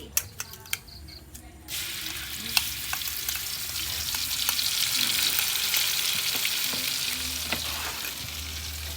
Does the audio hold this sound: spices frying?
yes